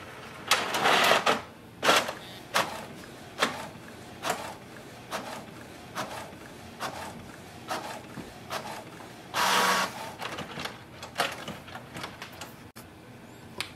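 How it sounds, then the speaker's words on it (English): A Canon inkjet printer runs off a nozzle check sheet, giving a series of sharp mechanical clacks and whirring carriage passes at an irregular rhythm, with a louder burst of feed noise near the end, close by and with no talking. "It's gonna print a nozzle check sheet,"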